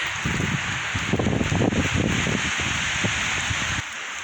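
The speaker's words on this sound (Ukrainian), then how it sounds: "Дощ." Steady rain falling through a winter forest in December after snow has melted, a dense continuous patter on leaves and ground with light wind, close and fairly loud throughout.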